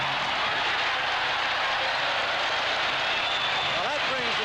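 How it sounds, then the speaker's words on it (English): A sellout crowd at a 1979 NFL football game between the Lions and Packers in Milwaukee roars continuously, a loud broad wash of cheering that never lets up, with faint voices inside the noise. "Well, that brings the crowd alive here."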